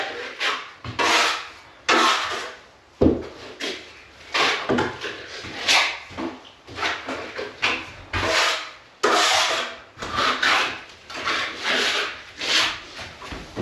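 A trowel spreads plaster over wall joint tapes in repeated close scraping and rubbing strokes, each a few seconds long, with no talk.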